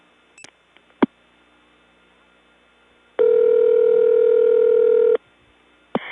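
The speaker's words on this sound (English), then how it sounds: "we have to finish dialing the number within a limited amount of time" Steady dial tone on a 1979 Gainesville, Georgia step-by-step tandem exchange, heard alone for about two seconds between faint clicks and short pulses of dialing on the line.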